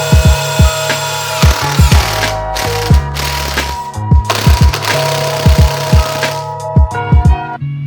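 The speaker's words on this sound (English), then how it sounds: "Then I went and drilled all the holes." A step drill bores holes for a Lexan rear hatch window on a Civic EG hatchback, loud grinding bursts coming in uneven clusters close by, with short clicks and pauses between them.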